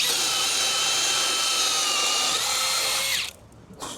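A new power tool running in third gear whines steadily and loudly as it works through wood, then winds down and stops near the end.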